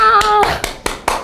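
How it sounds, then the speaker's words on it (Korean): A handful of people clap five or so steady, sharp handclaps in an indoor office setting, close and loud, right after a brief excited voice. "박수!"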